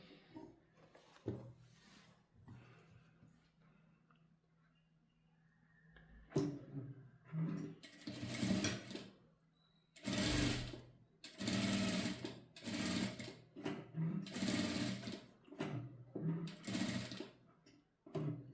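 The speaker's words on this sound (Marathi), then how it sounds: "पुन्हा लगेच आपण इथे शिलाई देऊन घेणार आहोत" A sewing machine stitches a princess-cut blouse in bursts of steady whirring, stopping and restarting several times, with quiet handling between runs and a voice speaking softly in places.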